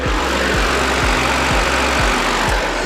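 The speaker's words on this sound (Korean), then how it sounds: "역시 실키6 직렬 6기통 차량인 만큼 엔진 소음 정말 조용하고 정숙한 차량이고요" Loud, close inline six-cylinder car engine idling with the hood open, a smooth, even hum and a soft rhythmic pulse about twice a second, steady throughout without voices.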